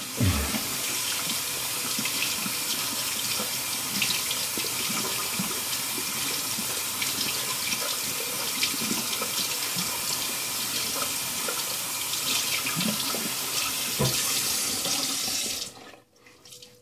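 A tap runs steadily into a sink while a shaving brush is rinsed after a straight razor shave, a loud continuous splashing stream that lasts about fifteen seconds before cutting off abruptly.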